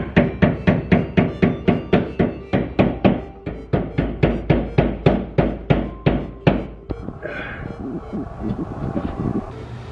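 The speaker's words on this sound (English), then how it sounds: "After beating on it with a hammer," A hammer beats on the metal tabs of a car's rear fender in a fast, steady run of loud clanging strikes. The blows turn duller and more muffled near the end, with some rustling between them.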